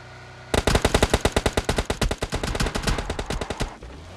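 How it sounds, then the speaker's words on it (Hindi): Rapid automatic gunfire from PUBG Lite gameplay, a loud close burst of about thirty evenly spaced shots over three seconds, sharp and punchy, with no talk. "मुझे लगा यहाँ पर ये जो शॉट्स आए हैं ये शायद दूसरे अपार्टमेंट्स की तरफ से आए हैं"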